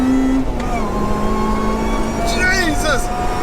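A supercharged 316 bhp Honda Integra Type R DC5 revs hard to around 8,500 RPM with a sustained rising engine note and supercharger whine, loud and close from inside the car, ending in a pitch sweep as it shifts.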